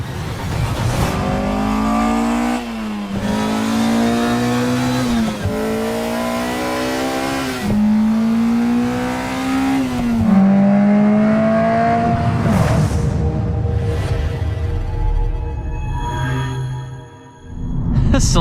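An Acura Integra engine revs repeatedly in a car teaser. Rising, climbing gear pulls are broken by shifts, then it settles into a loud, close, continuous drone.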